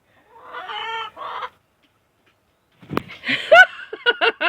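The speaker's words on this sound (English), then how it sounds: "And we've left a hen go broody. There she is." A broody hen sitting on a clutch of about twelve eggs gives short, close, throaty clucks and grumbling calls in two bursts separated by a quiet gap.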